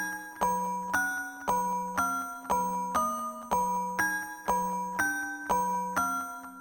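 Absence, a synth pluck preset from a tech house sample pack, rings out a repeating melodic pattern of bell-like plucks. Each note decays gently into the next at an even, moderate pace and quiet level.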